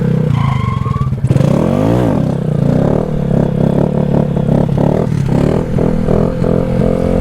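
A Honda Grom motorcycle engine revs hard, its pitch sweeping up and down through a loud, close roar, with a brief clatter early on before the engine note holds and wavers.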